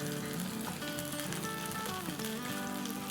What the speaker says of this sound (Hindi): ये जिस पर रान है, और मसाले को भूनते हैं